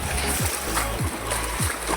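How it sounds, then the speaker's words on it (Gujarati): Steady footsteps wading through knee-deep floodwater on the way to rain-flooded farm fields after heavy rain, making three evenly spaced sloshing splashes over a continuous wet background rush. "પાણીમાં દખલ દખલ કરતા કરતા ખેતર જઈએ"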